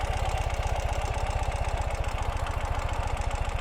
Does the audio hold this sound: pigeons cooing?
no